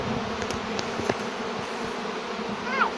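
Honey bees at hive frames drying out in autumn, a steady close buzzing hum throughout with occasional louder passes of individual bees near the microphone.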